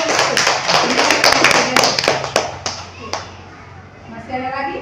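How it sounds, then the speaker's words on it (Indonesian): A small group in a school workshop gives a short round of applause with quick, close claps. The clapping fades after a few seconds and a voice speaks near the end. "Kita beri aplaus dulu untuk kelompok itu"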